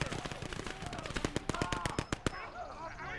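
An MG42 machine gun on a half-track fires rapid bursts in the Gates of Hell World War II game, a dense rattle of sharp shots, loud and close, with other battle noise and a voice talking underneath.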